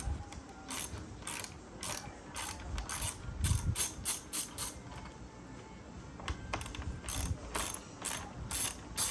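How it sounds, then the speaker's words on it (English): Rapid ratchet clicking in repeated bursts as a ratchet backs out 10mm bolts from the radiator cooling fans of a 2007 Kia Spectra, close and fairly quiet, with short pauses between runs. "you can start removing these 3 10mm bolts and 4 right here"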